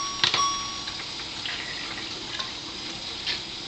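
Water runs steadily from a Melody water ionizer fitted with a flow control valve, a soft continuous trickle with a few faint electronic beeps near the start.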